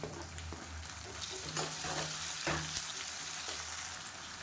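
Onion and finely chopped tomato sautéing in a pan for a raw-banana masala: a continuous crackling sizzle with periodic stirring scrapes, close and fairly loud, with no talking.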